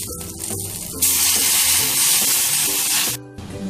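Milk poured into a pan of fried lachcha vermicelli and raisins, a loud rushing hiss and sizzle that bursts in suddenly, holds for about two seconds, then cuts off to a quieter simmer.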